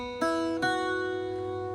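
Irish bouzouki picking a short group of jig notes from the Shaskeen Jig, two plucked attacks on open and fretted strings ringing out with sustained drone-like overtones, close and clear with no talking.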